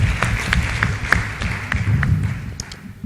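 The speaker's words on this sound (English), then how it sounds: "Please give him a round of applause" Applause from the audience at an annual lecture, a steady patter of many hands clapping that carries on with fairly even loudness throughout.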